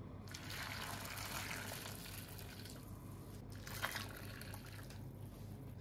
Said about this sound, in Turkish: Şimdi üzerine sıcak kaynar su dökeceğim ki 10-15 dakika bekleteceğim.